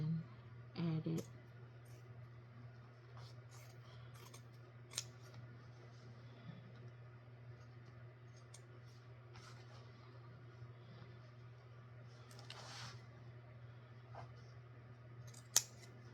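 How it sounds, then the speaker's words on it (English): Scissors snip through fabric on a patchwork denim skirt, giving faint, sparse cuts over a steady low electrical hum in a quiet room, with a brief louder burst near the start. "I'm just going to cut this off and then add it."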